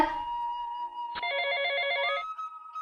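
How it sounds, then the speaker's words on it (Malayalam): A phone rings with a short electronic tone pattern, clear and close, with nobody talking. "ഇതെന്താ ഫോണിപ്പോ എന്റെ വിളിക്കണേ"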